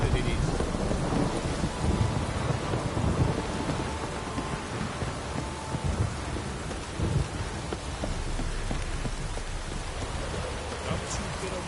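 Heavy rain pours down steadily in the video game Witcher 3, with deep rolling thunder rumbling underneath throughout, a dense, loud, continuous wash of storm noise.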